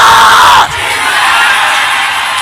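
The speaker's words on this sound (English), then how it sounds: "Somebody shout Jesus" A church congregation shouts the name Jesus in one loud collective burst, a mass of voices in a worship service that settles into a sustained crowd roar.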